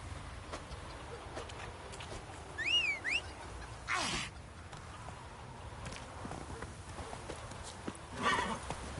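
The horse Roach in The Witcher 3: Wild Hunt whinnies and clip-clops on the move, hoofbeats fairly quiet under ambient outdoor sound, with one clear neigh in the middle and a louder burst near the end.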